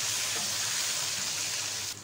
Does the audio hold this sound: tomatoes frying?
yes